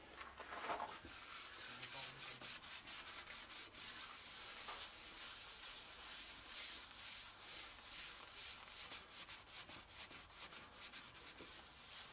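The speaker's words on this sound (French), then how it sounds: "je vais poncer une première passe à la main au grain 400 avec ma cale à poncer manuelle" Hand sanding with 400-grit paper on a manual sanding block over a black chrome finish on limestone: a steady run of rhythmic rasping back-and-forth strokes, close and fairly loud, with no talking.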